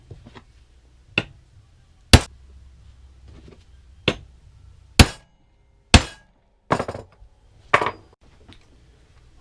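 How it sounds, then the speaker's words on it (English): A hammer strikes a center punch to mark drilling spots on a metal spoon for a fishing lure, giving seven sharp, separate metallic taps at irregular intervals, clear and close against a quiet background. "we're going to go ahead and mark where we want it and punch it"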